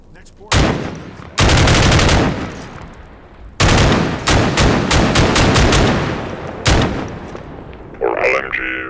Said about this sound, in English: the LMG adaptation of it, which is called like G36 or something along these lines